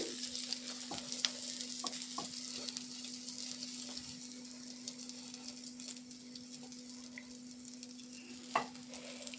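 An egg roll sizzles steadily in a pan as it is pressed and rolled from both sides, a close continuous frying hiss with a faint hum and occasional soft taps.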